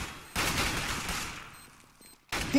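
Rapid gunfire bursts in Counter-Strike during a competitive esports match, a loud sustained volley that fades out, then a brief pause with small clicks before another sudden burst starts.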